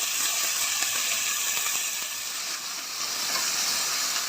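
Ginger garlic paste sizzles with onions in a pan while cooking a mint and coriander pulao, a steady, loud, close hiss of frying that runs unbroken and dips slightly midway, with no voices.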